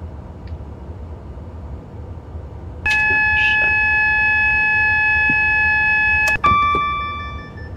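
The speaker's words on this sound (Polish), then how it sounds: "Drzwi się zamykają, słyszę." Sustained electronic door-closing warning tone in a Virgin Class 390 Pendolino in Train Simulator 2020, a steady multi-note chime held for several seconds over low cab rumble, then a brief second beep as it ends.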